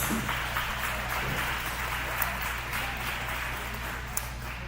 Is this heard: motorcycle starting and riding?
no